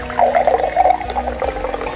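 Water pours steadily into beer in a nearby container, gurgling and splashing for a couple of seconds.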